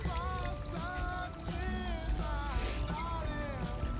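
Water rushes and trickles steadily through a broken mud dam outdoors at a grandmother's house, a continuous flowing wash with a faint tonal hum over it.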